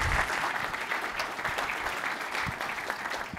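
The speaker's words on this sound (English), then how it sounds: "round of applause for Andrew, thank you" An audience at a technical talk on the future of radio gives a full, steady round of applause that fills the whole stretch with dense, even clapping at close range.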